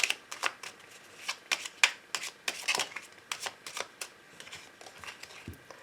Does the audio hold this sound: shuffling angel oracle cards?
yes